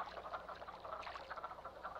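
Mating frogs in a spring pond in Shenandoah croak in a steady chorus of rapid, overlapping calls, dense and continuous at moderate loudness.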